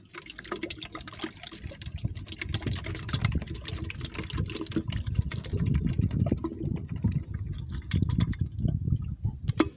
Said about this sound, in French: Et on refait encore une petite couche d'eau.